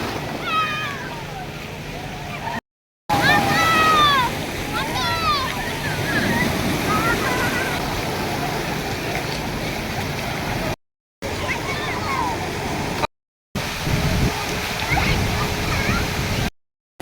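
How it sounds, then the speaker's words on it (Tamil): Water rushes and splashes steadily at a water park ride on a Queensland summer vacation, a loud, continuous wash that cuts out briefly several times, with excited voices and high squeals heard over it. "தண்ணி அடிச்சிச்சு அவங்க மேல."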